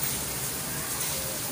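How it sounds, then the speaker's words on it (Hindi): Steady monsoon rain falls on an outdoor garden with plants, a continuous dense hiss of drops heard alone and filling the short moment. "बारिश हो रही है"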